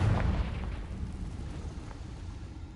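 A Confringo fire spell explodes in the Hogwarts Legacy video game as a single deep boom, loudest at the start, then a rumbling, crackling tail that fades slowly.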